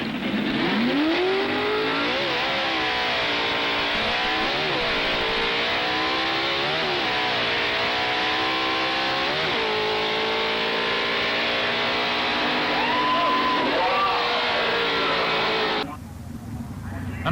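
A 1960s Ford drag racing car, a 427 Cammer, revving at high RPM with a loud sustained engine howl that rises and falls through gear changes, under a commentator's voice, cutting off abruptly near the end.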